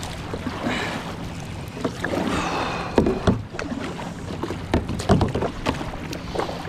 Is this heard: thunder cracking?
no